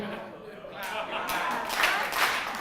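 Audience clapping along to the children's song "If You're Happy and You Know It" at a talk held in Oxford, a dense patter of hands that grows louder toward the end while voices carry on over it.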